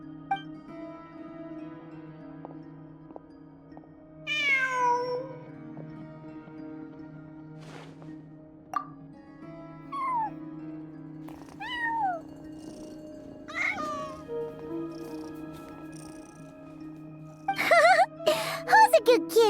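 A cat meows repeatedly in the fantasy game Genshin Impact, several clear rising and falling calls spaced over a steady low game hum, ending in a burst of louder sound.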